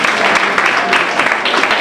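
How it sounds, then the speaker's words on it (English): An audience applauds a young women's Q&A panel at a hip hop event, a steady, loud, close wash of clapping that fills the whole stretch without pause. "Can we give them a round of applause as well?"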